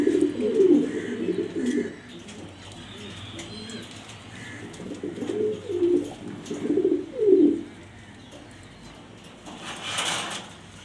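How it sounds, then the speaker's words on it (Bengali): Male pigeon cooing in a few soft bursts, some pauses between, with low background noise and a brief hiss near the end. "এটা নর কবুতর।"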